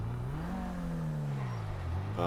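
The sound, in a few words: car driving in GTA 5 Online video game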